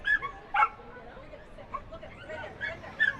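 Corgis bark and yip during a corgi race at Canterbury Park racetrack, with a few sharp, fairly close barks rising over a steady murmur of crowd chatter.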